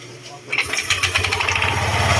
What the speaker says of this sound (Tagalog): Namamatay yung makina. Kasi sumasabit yung belt.